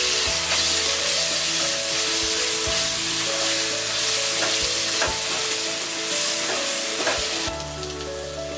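Red chili powder, salt and ginger garlic paste fry in hot oil for tomato rice, a steady close sizzle running throughout with sharp scraping clicks from stirring.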